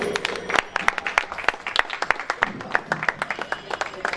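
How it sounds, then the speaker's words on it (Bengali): An audience claps at a volunteer event in Bangladesh, with dense, irregular hand claps sounding steadily throughout at moderate loudness. "যেসব ভলেন্টিয়াররা ফুল দিচ্ছে না তাদেরকে করতালি বাজানোর জন্য।"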